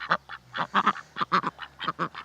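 Ducks quack in a rapid, close chorus of about a dozen nasal calls while eating swede leaves in a garden, loud and alone with no talk.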